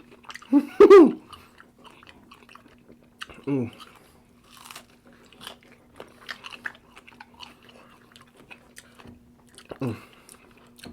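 Crunchy chewing of broccoli heard up close, with scattered crisp bites and munching between short voiced sounds.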